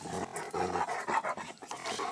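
A 13-year-old German Shepherd pants steadily and close by, a continuous run of rapid, breathy huffs with no talking.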